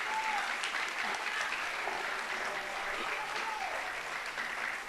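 Church congregation applauding throughout, a steady wash of many hands clapping at moderate distance, with faint voices and a brief vocal tone rising above it.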